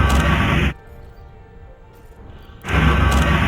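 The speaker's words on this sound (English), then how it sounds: "And metallic meteorites sound like this." Metallic meteorite scanner signature in the Elite Dangerous video game, heard as two loud bursts of harsh broadband static framing a subdued, wavering electronic drone with thin sustained tones.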